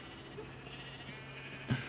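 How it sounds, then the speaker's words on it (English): Minecraft sheep bleating in a pen, a continuous moderate bleat with a sharper louder burst near the end, heard alone. "all these sheep. It is getting very crowded in this sheep pen"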